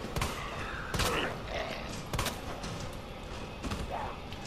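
Pistol shots in Resident Evil 2 Remastered, about four sharp cracks spaced roughly a second apart, each a brief broadband burst over a steady game background with faint voices mixed in.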